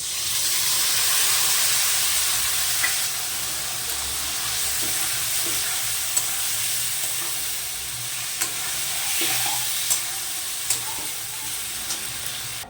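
Potatoes frying in oil with ginger paste, cumin and turmeric stirred in for a cabbage dish, giving a steady close-up sizzle and hiss throughout, punctuated by a few light stirring knocks.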